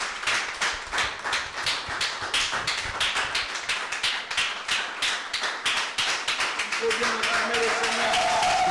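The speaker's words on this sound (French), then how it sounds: "Klatsch für den Herrn." A church congregation claps in praise of the Lord, a steady rhythmic beat of many hands that fills the room, while a voice comes in near the end.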